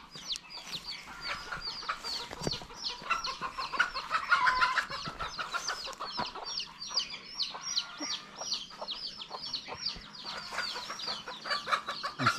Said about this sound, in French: Ici, c'est le paradis des poules et des coqs